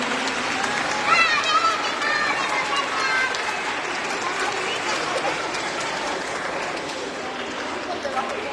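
Audience applause for children at a school reading event, a sustained patter of many clapping hands spread across the whole stretch, with a voice speaking over it.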